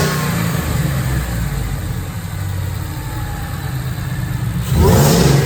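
A supercharged 2012 Ford F-150 with a 5.0-liter engine, running roughly 10-11 psi of boost on a dyno, revs steadily and loudly with a deep, continuous roar that swells harder near the end.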